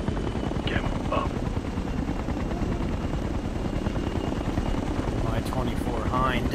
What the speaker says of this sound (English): You've got hostile choppers inbound on your position.